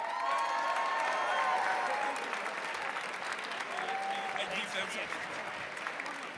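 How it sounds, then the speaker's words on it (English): Warm applause for Micah Hendler at a school Founders Day keynote, full and sustained from a large crowd, with scattered cheers and voices mixed in as it slowly tapers off. "Another round of applause for Michael Hendler."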